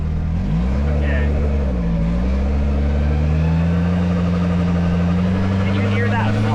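A Kawasaki Teryx5 H2 side-by-side being driven, its engine droning loud and steady with a rising whine and a fluttering pulse through the exhaust note. Voices talk over it.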